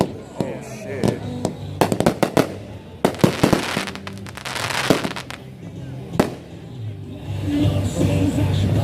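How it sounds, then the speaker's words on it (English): A 500-gram Tropical Paradise firework cake from Alien Fireworks going off with a low break: a rapid series of sharp, loud bangs and crackles, then sparser pops and fizzing, with people talking throughout. "That was a pretty dope firework, except for the low break"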